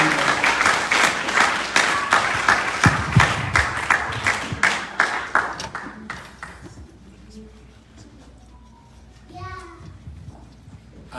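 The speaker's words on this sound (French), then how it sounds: "Nous pouvons acclamer pour la parole de Dieu." A church congregation at a worship service applauds and cheers, with dense rhythmic clapping for several seconds that fades out, followed by scattered voices and quieter talk.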